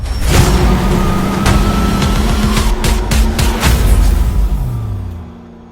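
Bushman Bomberets race cars in a 20-lap feature at the New Smyrna speedway roar past close by, with loud engine drone and rising and falling revs, then fade as the pack moves away.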